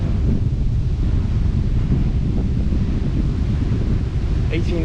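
Strong wind buffets the microphone on a flat cycle route in the Netherlands, a steady low roar that fills the whole stretch without letting up.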